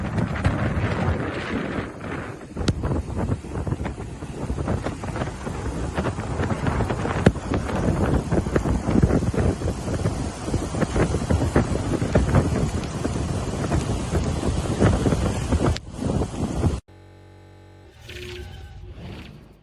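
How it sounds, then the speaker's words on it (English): Hurricane wind and storm surge on a beach, a loud, roaring blast of wind buffeting the microphone with surf churning beneath, continuous and close before cutting off abruptly near the end. "storm surge rolling right in."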